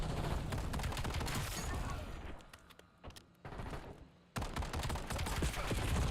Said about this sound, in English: Shooting bots in this game sucks compared to Black Ops 6.